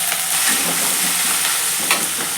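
Whole spices, cumin and ginger-garlic paste sizzle in hot oil, a steady close frying hiss with faint stirring scrapes and no talking.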